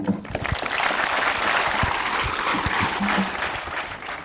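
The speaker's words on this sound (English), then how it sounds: "Perhaps as they walk off, you might like to give them a round of applause." A round of applause from a crowd outdoors at a technical college in Papua New Guinea during a Prime Minister's visit, steady dense clapping at moderate distance with scattered low thumps and brief murmurs underneath.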